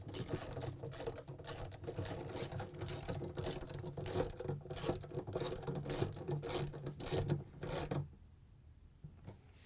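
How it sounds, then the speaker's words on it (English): A 10mm socket ratchet tightens stator bolts on a Samsung washer drive motor, producing a steady run of quick, faint clicking that continues for several seconds, then stops. "we can use our 10mm socket to put the bolts back in"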